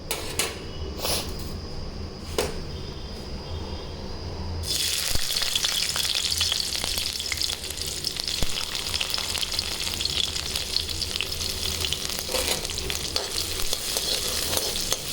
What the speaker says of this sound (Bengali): তো একদিকে ভাত বসিয়ে দিয়েছি আর এদিকে কড়াই চাপিয়েছি পাট শাকের জন্য।